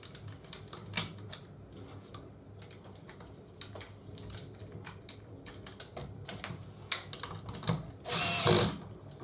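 Driver screwing together the plastic body of a Makita sander during servicing, close rapid clicks and ratcheting taps with short bursts, ending in a brief louder whirring spurt.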